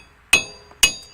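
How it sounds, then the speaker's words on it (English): A hammer drives a worn wheel stud out of a truck hub in two sharp, ringing metallic blows about half a second apart, close and loud with brief decaying clang after each strike. "So go ahead and hammer this other stud out"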